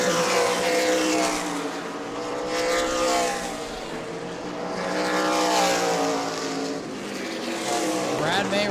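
Sunbelt Series Super Late Model race cars at New Smyrna roar around the track, their engines swelling and fading as packs pass, under steady commentator talk.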